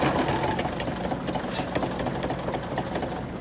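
A sewing machine stitches zipper tape onto a fur pillow, running at a steady, continuous mechanical whir with rapid needle chatter close by, with no voices.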